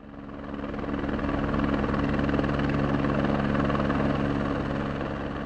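A mountain rescue helicopter in the Alps drones steadily overhead, its rotor thump and turbine whine loud and continuous, swelling slightly then easing as it passes.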